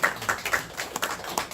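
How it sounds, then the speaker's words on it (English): At a community advisory board meeting, the audience gives a brief round of applause, with scattered, uneven hand claps of modest volume. "I think that stands for a round of applause coming from us."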